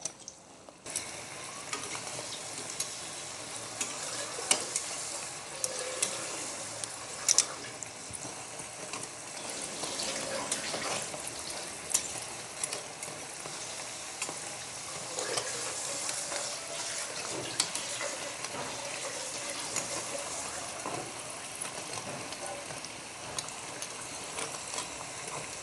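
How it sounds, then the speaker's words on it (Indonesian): Tofu and tapioca fritters frying in hot oil, a steady, loud broadband sizzle with bubbling crackle throughout, with occasional stirring clinks and no talking. "Goreng sampai kuning keemasan ya teman-teman."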